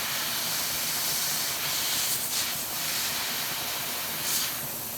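Steam hisses steadily while handspun art yarn spun from a beaded batt is being set, a broad continuous spray-like rush with a few brief louder surges, close and fairly loud throughout.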